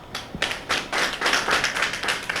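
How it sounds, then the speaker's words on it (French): An audience at a ceremony breaks into applause, a brief burst of clapping that swells into steady, dense claps lasting a couple of seconds. "Je voudrais d'abord que vous l'acclamiez pour ça."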